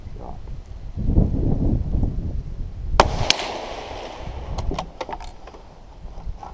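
A sharp gunshot from a Tikka T1X .17 HMR rifle cracks outdoors in gusty wind, followed closely by a second snap and a few fainter ticks and rustles.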